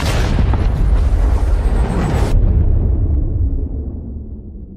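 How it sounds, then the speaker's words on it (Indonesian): A bomb explosion destroying an aircraft booms loud and deep, rumbling, then cuts off abruptly into a fading low roar. "bom itu pun meledak menghancurkan pesawat"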